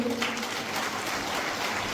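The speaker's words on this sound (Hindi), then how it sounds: "जोर से ताली बजाइए।" A large crowd at a youth gathering in Jashpur, India claps loudly and continuously in a sustained wash of applause.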